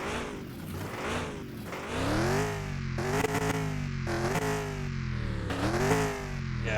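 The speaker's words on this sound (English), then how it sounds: "Yeah, it's missing pretty bad." A misfiring car engine in Car Mechanic Simulator 2021 revs up and down repeatedly, each loud rising whine dropping back before the next push, heard close and without voices.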